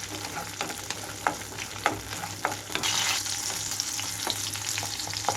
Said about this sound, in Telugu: ఇందులోకి ముందుగా పచ్చిమిరపకాయలు వేసి వేయించుకుంటున్నాను మీడియం ఫ్లేమ్లో ఉంచి